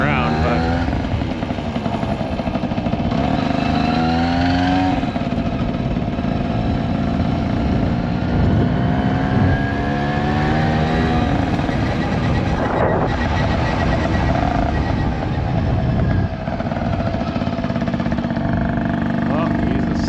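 A moped engine droning steadily while riding through Ontario streets, a loud continuous buzzing motor with shifting pitch as it speeds up and slows, wind noise and a few brief rattles throughout.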